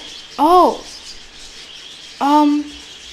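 Two short, bright chirps from birds in the video game The Last Door, separated by a pause, clear and close, each a quick rising-and-falling tweet over a soft electronic hiss.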